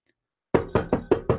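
Five sharp knocks on a door, evenly spaced and close by, come after a short silence with no voices.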